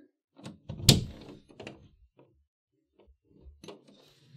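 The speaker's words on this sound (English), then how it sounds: "Hey, can you open the door?" A door opens with a sharp wooden thunk and rattle, followed by softer knocks and scuffs as it moves and settles, close in a quiet room.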